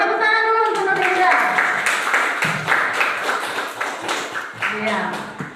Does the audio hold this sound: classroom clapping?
yes